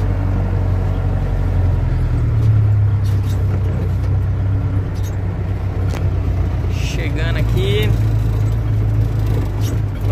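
A truck's engine rumbles steadily in a low, continuous drone from inside the cab as it rolls toward a weighing scale, with someone talking over it.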